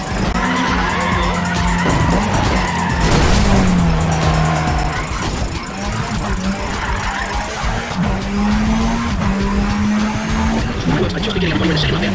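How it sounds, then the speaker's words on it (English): Wheel spin and squealing tires from a race car in the video game NFS ProStreet: a loud, sustained screech over a roaring engine that rises and falls through gear changes, with a voice talking over it. "Stop wheel spinning there!"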